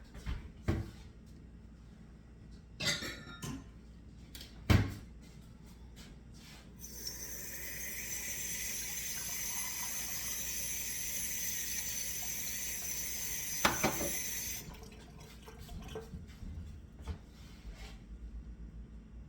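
Water poured into a pot of apple rhubarb chutney in a kitchen: a steady hissing stream lasting several seconds, framed by scattered knocks and clinks of handling, faint and close, with no talking.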